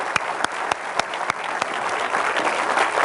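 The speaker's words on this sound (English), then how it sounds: "let's have a big hand for Garrett" Audience applause, a steady wash of clapping with a few sharp individual claps standing out near the start.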